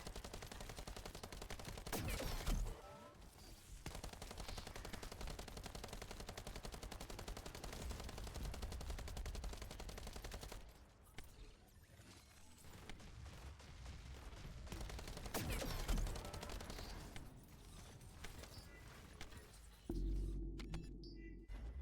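Turret gunfire in a Jayber build video game, a dense stream of rapid shots running steadily through most of the stretch, with brief lulls and sharper bursts, loud and close throughout.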